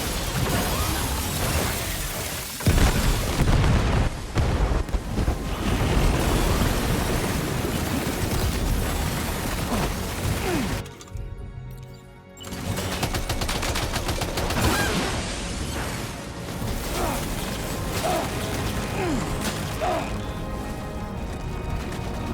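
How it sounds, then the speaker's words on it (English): The Magellan ship's main cannon firing in the Death Stranding 2 video game: a dense, continuous barrage of loud booms and crackling blasts that briefly drops away partway through, then resumes. "The Magellan's main cannon is online and ready to provide fire support."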